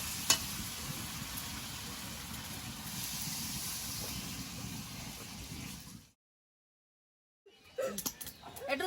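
Frying chicken in a pot sizzles and hisses steadily after water is poured in, a soft continuous bubbling that cuts to silence before faint clatter returns.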